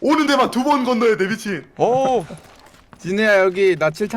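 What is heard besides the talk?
No distinct noise like a dog, phone or traffic.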